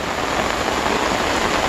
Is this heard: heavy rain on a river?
yes